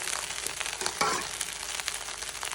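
Spring onion is tossed into vegetable fried rice in a hot pan, giving a brief, quiet sizzle with a short scraping stir near the middle, and no voices.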